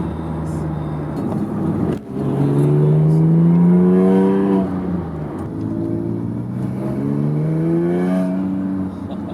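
A Porsche 911 (997) Carrera S engine climbs steadily through the revs while accelerating, heard from inside the car as a loud, rising tonal drone that drops once at a gear change and then pulls up again.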